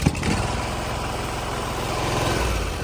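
A pressure washer engine, just fitted with new belts and pulleys, catches with a sharp start and settles into a steady, loud rumbling idle, close by with no talking over it.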